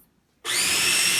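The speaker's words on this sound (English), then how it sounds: "I'm just gonna finish blending this up" A kitchen blender starts abruptly and whirs at steady full speed, grinding artichoke sauce with leafy greens and olive oil; loud, close and continuous with no talk.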